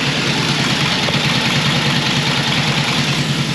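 An old Indian motorcycle engine idles steadily, a loud, close, continuous low rumble with an even pulse and no pauses.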